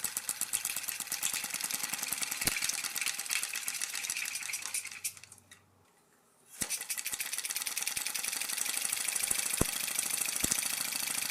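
A homemade engine, its exhaust ports dosed with mineral oil, runs with a fast rattling, knocking chug, cuts out into near silence for about a second, then restarts and keeps clattering steadily up close.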